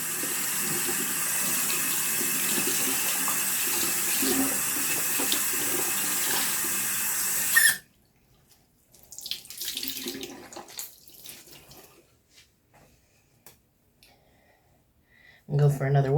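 Water from a tap runs steadily into a sink for rinsing off a face during a skincare routine, then stops abruptly, leaving quieter splashes and dripping, with talking afterward.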